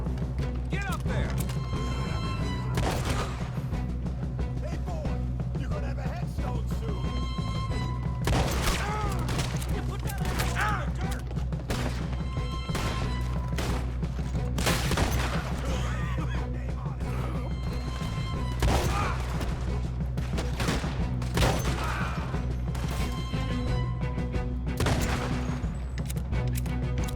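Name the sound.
shotgun fire in the video game Red Dead Redemption 2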